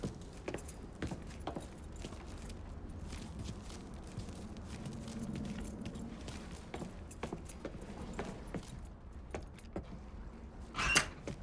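Keys jangle faintly as truck keys are picked up in Mafia III, a soft metallic rattle over low ambient game noise, ending in a brighter jingle near the close.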